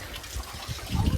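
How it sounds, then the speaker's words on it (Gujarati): Heavy rain falling with water flowing and gushing nearby during a flood, a dense continuous wash of noise that swells louder toward the end. "અરે યાર વરસાદ"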